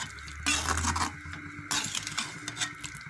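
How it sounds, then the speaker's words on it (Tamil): Chicken pieces being stirred into a chilli chicken gravy in a pan, with soft scraping and clinking of a spoon against the pan in a few short bursts, close and fairly quiet. "இந்த சிக்கனை வந்து கிரேவியோட கலந்து விட்டுடலாம்."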